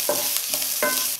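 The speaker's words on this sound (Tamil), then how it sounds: "வெங்காயம் சேர்த்து கொஞ்ச நேரம் வதக்கிறதுக்குங்க" Chopped onion sautéing in a hot pan for tomato idli, a close, bright sizzle with three quick stirring strokes scraping through it.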